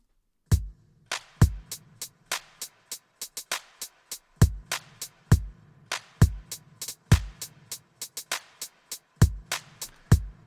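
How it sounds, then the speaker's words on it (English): Hip-hop drum pattern of closed hi-hat, kick drum and clap playing alone, with punchy deep kicks, crisp ticking hats and sharp claps in a steady, syncopated groove, clean and close. "We've got a closed hi-hat, we've got a kick drum, and we have a clap."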